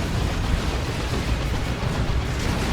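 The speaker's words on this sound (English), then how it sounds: "Plasma Cannon is doing some work over here" Plasma cannon fire in a Dawn of War 2 multiplayer battle, heavy booming blasts blurred into a dense, continuous roar of explosions and battle noise with no voices.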